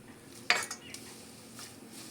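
Drumstick leaves are stirred in a pot of water with a metal spatula: one close, sharp clink against the vessel, followed by a few softer scrapes and sloshes at low volume.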